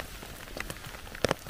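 Rain patters steadily on the ground during a cold mushroom-picking outing in 6 °C weather, with a few sharper drops landing close by near the end.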